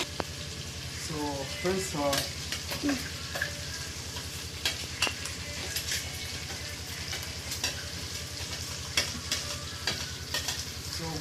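Gongura sorrel leaves dropped into chicken frying with tomatoes, setting off a steady loud sizzle with stirring scrapes and clinks in the pan, while someone talks over it.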